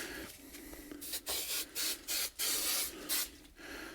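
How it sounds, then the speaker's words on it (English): 3M Super 77 adhesive spray applied while installing rubberized mat flooring, several short hissing bursts in quick succession, close and fairly quiet, with brief pauses between sprays. "I'm just gonna use some of this 3M Super 77 adhesive spray."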